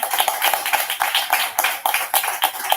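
A small audience at a book presentation in Cagliari claps with distinct, uneven hand claps and an irregular rhythm, moderately close and fairly quiet, without talk over it.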